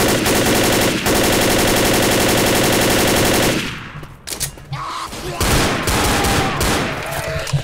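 Zombie shooter Left 4 Dead: rapid sustained automatic gunfire roars loud and close for several seconds, then breaks off into scattered shots, thumps and game noise.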